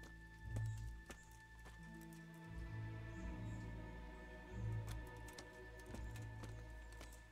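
Horse hooves in Kingdom Come: Deliverance clop in a soft, irregular rhythm under low game ambience and faint music, moderately quiet and without talk.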